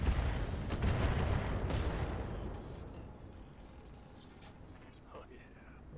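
Mech weapons firing in the BattleTech game, with a heavy rumbling barrage that is loudest at the start and gradually fades into a quieter mechanical tail.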